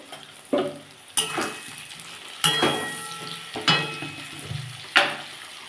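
Chili powder, turmeric and salt fry in oil in a pan for a cauliflower curry, with a soft sizzle and several distinct clanking stirs of a spoon against the metal, close and without speech.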